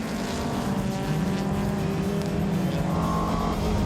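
Mini race cars, including a Castrol Mini, climb a hill with engines roaring loud and close, a continuous buzzing drone whose pitch rises and shifts as they accelerate, no speech over it.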